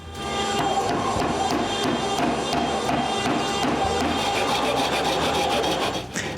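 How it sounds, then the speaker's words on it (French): The excess of a walnut plug glued into a lathe-turned potpourri box is cut off. A steady, close rasping saw action, with rhythmic strokes throughout and no talk. "Je coupe l'excès, puis je laisse ça tranquille."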